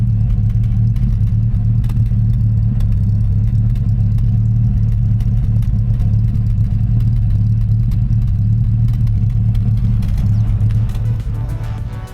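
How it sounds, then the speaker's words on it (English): A Datsun 620 engine runs loud and close through a new custom stainless steel exhaust with a deep, throaty rumble, holding a steady growl before easing off at the end. "I was well happy with the new exhaust. It sounded awesome."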